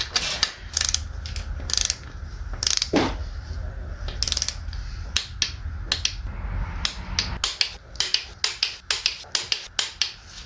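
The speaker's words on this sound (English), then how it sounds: "This is what my torque wrench is telling me." A torque wrench ratchets and clicks while tightening bolts during a 4L80E transmission rebuild. The sharp mechanical clicks come in irregular bursts, then in a quick, even series of ticks near the end.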